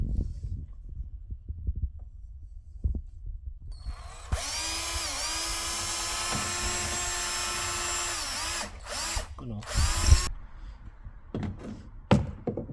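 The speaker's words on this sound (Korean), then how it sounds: "여기에 맞춰서 구멍을 뚫어 주시면 됩니다" A power drill bores holes for mounting a hot and cold water manifold, a loud steady whine lasting several seconds before stopping, followed by a couple of short bursts, with scattered handling thumps before and after.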